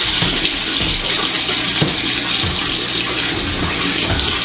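KegLand Bucket Blaster keg washer spraying water inside a bucket, a steady loud rushing gush with sloshing splashes and occasional knocks, continuous throughout.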